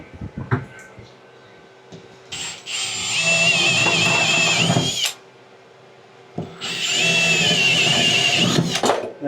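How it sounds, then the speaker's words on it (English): Power drill boring holes with step bits into a Toyota Tacoma Rubicon part, in two loud sustained bursts of a couple of seconds each, separated by quieter pauses with faint handling noises. "Now I know where to drill all these holes"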